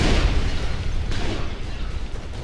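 Heavy rocket blasts in a video game's missile system, a continuous loud roar of overlapping booms that rumbles deep and steady before easing slightly.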